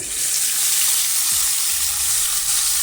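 Chopped tomatoes hit hot oil tempered with cumin and asafoetida, giving a loud, steady, broadband sizzle that fills the whole span without any voices.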